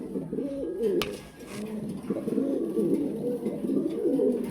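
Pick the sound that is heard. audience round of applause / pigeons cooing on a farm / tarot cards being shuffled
pigeons cooing on a farm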